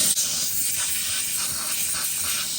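A steam cleaner blows a continuous, loud hiss over a refrigerator's defrost thermostat, starting abruptly and holding steady without pause for the whole stretch.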